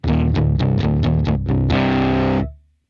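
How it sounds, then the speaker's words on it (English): Electric guitar through a distortion patch on an Eleven Rack effects unit, a rapid run of six or seven chugging chord stabs then one held chord that cuts off, loud, close and gritty with no talking. "let's get some distortion happening"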